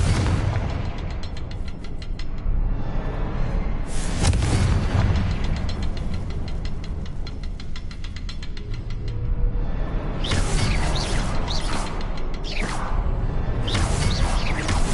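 Confringo explosive spell bursts in the Hogwarts Legacy video game: loud, heavy booms and whooshing blasts, a big one near the start and another cluster later, over a rumbling combat backdrop.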